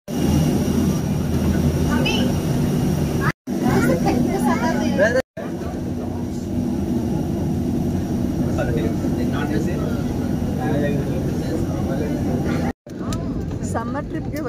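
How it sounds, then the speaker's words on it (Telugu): Air India passenger plane cabin on a Delhi to Vizag flight, a steady loud low engine and air roar filling the cabin, with people talking over it and a few brief dropouts. "ఎయిర్ ఇండియా ఫ్లైట్లో ఉన్నామండి."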